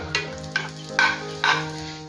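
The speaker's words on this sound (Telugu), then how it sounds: "నెయ్యిలో ఇంగు వేగుతుంటే సువాసన ఎంత బాగుంది అసలు" Asafoetida frying in ghee: a soft sizzle under a few clinking stirs and scrapes of a spoon in the pan, close, with no voices.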